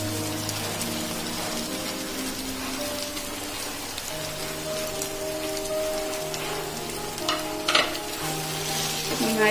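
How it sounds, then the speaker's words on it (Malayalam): Masala frying in a pan for kizhi porotta is stirred steadily, a continuous crackling sizzle like light rain with a low hum beneath and a brief louder scrape near the end. "നന്നായി ഇളക്കി കൊടുക്കുക ഇത് നന്നായി ഫ്രൈ ആയി വന്നിട്ടുണ്ട്"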